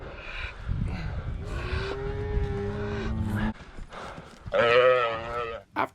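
Cattle lowing during a long mule cattle drive in a canyon, several drawn-out moos from nearby cows in sequence, one deep and sustained, another loud and close near the end, with faint rustling between.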